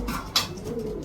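Racing pigeons cooing before an auction, one soft coo with a brief sharper call, close and alone.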